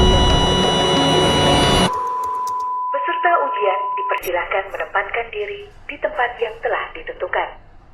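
An OSCE medical practical exam station signal blares as a loud, harsh buzz for about two seconds, followed by a thin steady beep while voices talk over it.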